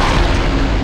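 A short, loud, dense boom from an explosion in the N64 first-person shooter Turok 2, filling the whole moment as one sustained burst.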